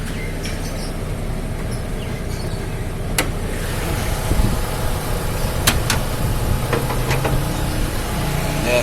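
A car engine idles with a low, steady hum and some faint ticking and clicks over the constant drone.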